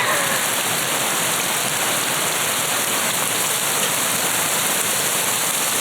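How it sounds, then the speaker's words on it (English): Hail falls steadily outdoors under a tree, a dense continuous hiss of pelting ice with no gaps, loud and even throughout. "And look, today we have hail."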